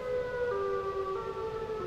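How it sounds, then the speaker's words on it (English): A wailing siren like an ambulance's, its steady tones shifting pitch in steps, holds at a moderate level throughout with a faint low rumble beneath and no voices. "Sounds like a creepy ambulance running down the street."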